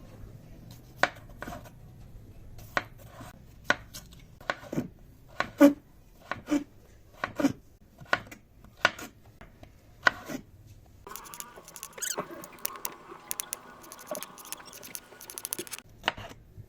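Potatoes chopped with a knife, about a dozen evenly spaced sharp knocks on a board, close and clear, then faster busier cutting and clatter with a faint background hum toward the end.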